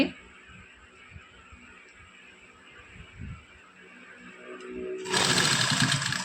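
A sewing machine stitches a half collar neckline on a garment, starting as a low, quiet whir with faint handling sounds, then breaking into a louder, steady close-up run near the end, with no talking.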